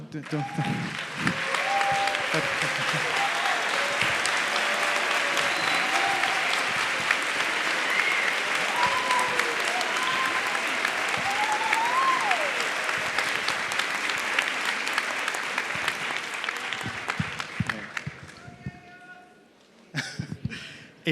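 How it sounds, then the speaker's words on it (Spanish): Applause from a large audience at a book fair talk in Bogotá, a long, dense roar of clapping with some cheering voices that holds steady for most of the stretch before thinning out and stopping near the end. "le pido a él un aplauso"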